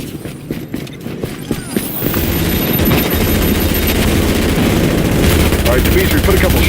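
Rapid video game gunfire in a loud, dense stream of shots that builds into a continuous roar of firing and explosions, with players talking over it.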